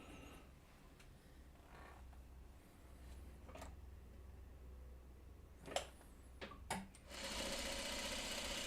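A sewing machine stitches small quilt block pieces for a Buckwheat patchwork block: a soft low motor hum with scattered faint clicks and ticks, then a brief louder burst of running near the end, all quiet and close.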